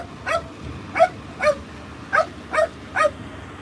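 A dog barks six times in a quick, evenly spaced series of sharp, close yaps, with faint background noise and no talking.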